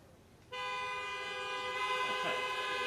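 A steady, loud car horn starts suddenly and holds without a break, honked to salute veterans on Veterans Day 2021, with faint voices underneath.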